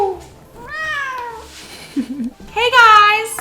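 Beanie the cat gives two clear, close meows, a rising-falling cry and a louder second one after a brief pause, with a voice also present.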